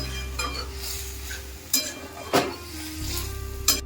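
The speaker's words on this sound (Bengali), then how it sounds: "আবারও একটু নাড়াচাড়া করে নেব।" A spoon stirs bottle gourd and potato curry in a frying pan, with soft oil sizzle throughout and a few sharp clinks and scrapes of the utensil against the pan.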